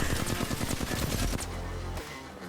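A rapid automatic burst in Apex Legends, about a dozen sharp close shots in quick rhythm aimed at conduits, ending abruptly with a brief thump and fading rumble.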